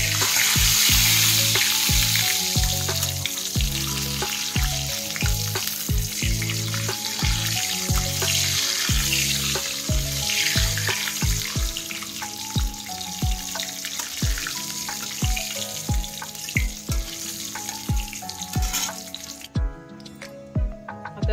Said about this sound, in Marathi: तर तूप छान गरम झालंय आता याच्यामध्ये मी हे ड्राय फ्रुट्स टाकून घेते।